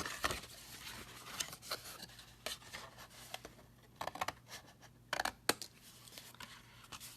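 Scissors cutting a notch in a paper box template, with a few brief close snips and scattered paper rustles and taps, quiet throughout.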